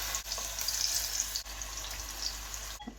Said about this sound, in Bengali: এখন দিলাইলাম মাছ ফ্রাই